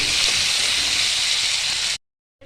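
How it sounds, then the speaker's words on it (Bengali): Sliced onions with bay leaf, dried red chili and whole cumin fry hard in hot oil in a wok, a loud, steady broadband sizzle that carries alone for about two seconds before it cuts off abruptly. "পেঁয়াজগুলো আমি একটু ভেজে নেব।"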